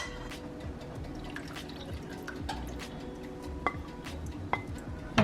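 Chicken pan drippings poured back into a pot, a trickle of liquid with scattered drips and light clinks, a sharper splash at the end.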